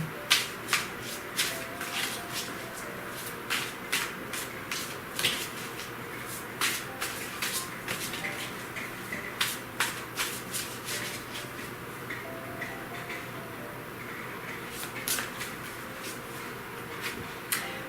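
Tarot cards being shuffled by hand in a steady run of quick riffling bursts, close and fairly quiet, with brief pauses between the shuffles.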